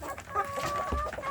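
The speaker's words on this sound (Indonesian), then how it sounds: "saya memberi makan anak ayam kampung saya sedulur di bagian pembesaran" Village chicks in a grow-out pen peep continuously while being fed leftover rice, a steady chorus of high chirps close by with a few soft clucks and no talking.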